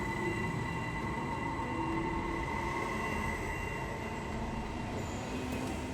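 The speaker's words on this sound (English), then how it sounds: "First to show up are two Mälartåg Stadler Dostå EMUs." Two coupled Mälartåg Stadler Dostå double-deck electric multiple units, four-car KISS units, roll steadily into a Swedish station platform with a continuous low rumble, a faint high squeal and an even hum, heard from nearby without voices.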